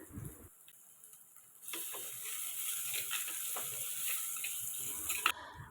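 Crushed garlic and chopped onion frying in oil in a clay pot for fish gravy, a steady close sizzle that swells louder partway through, with faint occasional stirring clicks and no voices.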